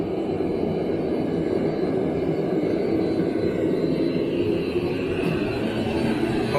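A Webasto diesel fuel heater fitted to a car, running hard with a loud, steady roaring rumble that holds constant and close throughout, with no voices.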